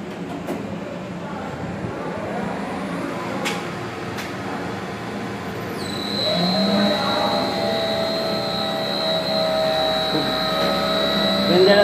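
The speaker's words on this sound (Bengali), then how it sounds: "ডেঞ্জারাস সাউন্ড, এটা মোটর" An overheating main electric motor runs with a loud, continuous mechanical drone, joined midway by a sharp high-pitched whine that persists to the end, while people talk nearby.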